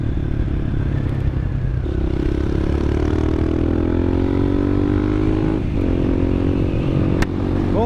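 A 2019 CSC TT250 trail motorcycle engine hums steadily throughout, with a low idle drone and slight rises in pitch as it revs, heard nearby with no talking.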